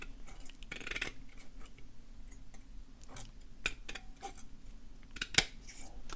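Scissors snip a strip off a piece of material, several quiet close cuts scattered among faint ticks and handling noises.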